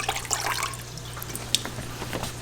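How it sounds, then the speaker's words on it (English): Ceramic aquarium filter media rinsed under water, with close, irregular drips and splashes over a low steady hum and one sharper splash midway. "Rinsing out the ceramic media as well."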